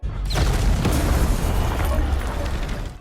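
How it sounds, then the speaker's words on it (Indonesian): A house explodes in the film Honest Thief (2020), a massive explosion with a deep, roaring boom that rumbles on loudly for several seconds. "Lihat rumahnya meledak"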